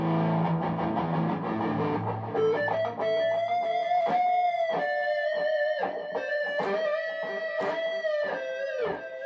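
Electric guitar played through a distortion effect on a pedal board, a heavily overdriven sustained chord ringing into a wavering held note with repeated picked accents, loud and alone.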